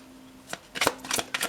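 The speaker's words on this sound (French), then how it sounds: "On va rajouter des cartes supplémentaires pour la Vierge du mois d'avril 2020." Tarot cards being shuffled by hand in a few quick riffling bursts, close and fairly quiet, with a faint steady hum underneath.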